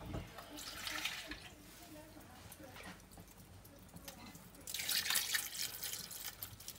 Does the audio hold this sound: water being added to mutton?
yes